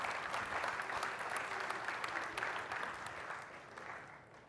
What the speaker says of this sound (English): definitely want to give a nice round of applause to everyone who has helped make this possible